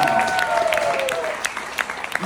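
A comedy show audience gives an applause break, starting as a full burst of clapping that thins to a few scattered claps, with speech overlapping near the start.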